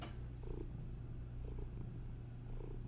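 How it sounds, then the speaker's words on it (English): A cat purring very loudly, a steady low rumbling drone with a gentle rhythmic pulse of breaths, close up and continuous throughout with no one speaking. "he's purring very loudly"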